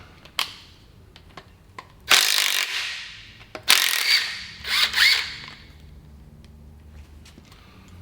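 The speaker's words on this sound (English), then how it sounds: "I'm going to use an impact gun to get the bolts out" An impact gun rattles in three short, loud bursts, loosening bolts on a Johnson/Evinrude outboard thermostat housing, with quiet clicks and handling noises between bursts.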